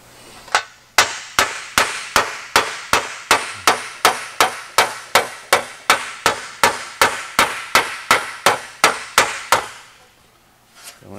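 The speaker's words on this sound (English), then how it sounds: "by just hitting the independent hammer blows" Metal for a Porsche 550 dash is shaped over a die with a long run of steady, evenly paced hammer blows, about twenty sharp ringing strikes in a row, close and loud, before stopping.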